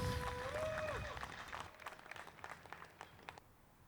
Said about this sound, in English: great cheers from the crowd for that one